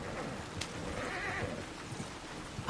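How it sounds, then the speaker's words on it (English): A horse whinnies and neighs in the Red Dead Redemption 2 video game, with steady hoof clip-clop and ambient game sound running underneath for a few seconds. "I think the horse is getting skittish."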